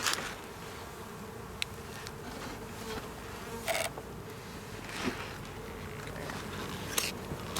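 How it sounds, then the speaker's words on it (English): A dense swarm of honeybees hums around an opened beehive during an inspection, a continuous droning buzz with individual bees zipping close past the microphone, plus occasional soft knocks and rustling. "look at all the bees on that"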